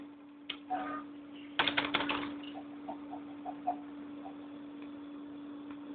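Computer keyboard keys being tapped, a quick cluster of clicks followed by scattered single light taps, close and faint over a steady electrical hum.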